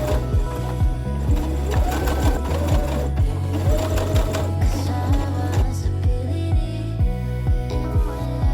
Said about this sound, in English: I top stitch from the right side close to my actual seam